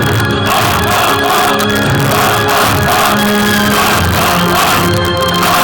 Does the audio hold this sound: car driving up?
no